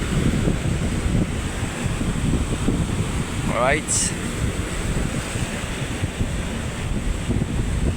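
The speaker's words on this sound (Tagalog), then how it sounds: "Lalaki ng alon nun, layo ng binabasagan." Big ocean waves crash against a pier near Laiya, Batangas, a steady rumbling surf under heavy wind buffeting the microphone, with a brief spoken word partway through.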